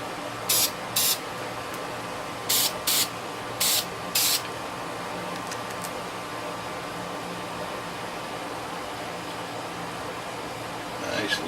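A spray can lays light coats of paint onto a model in five short bursts. Each hissing burst stands out over a quiet, steady background hum, with silence after the last one.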